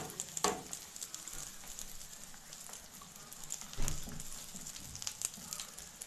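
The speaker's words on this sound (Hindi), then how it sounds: "तो ऑयल हमारा गर्म हो चुका है और हम अपने अनियन को इसके अंदर रख देंगे।" Onions sizzling in hot oil as they fry into crispy onions, a faint steady crackle with a few louder pops and spatters, no talking.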